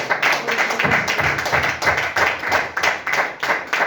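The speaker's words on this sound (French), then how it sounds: "Est-ce que tu peux acclamer le Seigneur?" A church congregation at a New Year's Eve crossover service claps together in a quick, steady rhythm, close and lively, with scattered cheers mixed in.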